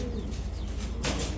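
A pigeon coos softly, a low murmuring call close by, with faint bird chirps and a short burst of noise near the end.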